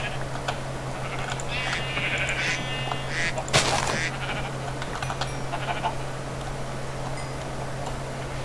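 Sheep bleat a few times in a row in the video game Minecraft against a steady electronic hum and small clicking sounds, moderately close.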